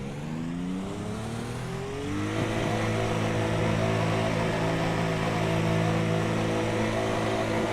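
Race car in the pit lane idling at low revs, a steady, droning engine hum that rises slightly and then holds, fairly close with no talk.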